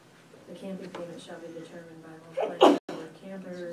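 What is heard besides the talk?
sneeze during board meeting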